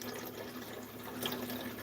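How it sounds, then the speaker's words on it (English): Water runs into a pot for making coffee, a steady quiet trickling pour that continues throughout. "Put the water inside of the frying pot."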